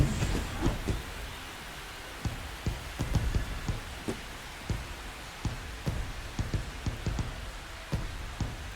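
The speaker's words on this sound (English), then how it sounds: "MLB The Show brings you baseball on a rainy night" Rain falls steadily during a night baseball game in MLB The Show 25, a constant hiss broken by frequent sharp, crackling thumps that come at an irregular pace.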